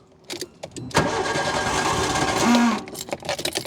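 A Nissan Micra K11 engine in poor condition cranks with a rapid, uneven chugging for about two seconds, then cuts out without catching; loud and close.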